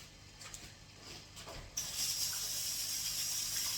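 Water from a kitchen tap starts suddenly partway through and then runs as a steady hiss for handwashing, alone and moderately close.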